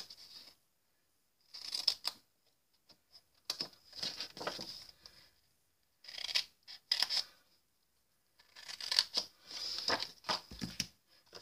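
Scissors cut through card paper in short groups of crisp snips, with quiet gaps between each run of cuts.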